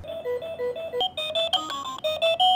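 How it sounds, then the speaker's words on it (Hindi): An LED alarm clock with a built-in projector, powered by three cells, plays an electronic alarm melody: a steady run of clear, close beeping tones with shifting pitches and no voices. "इसमें तो अलग अलग अलार्म साउंड भी है"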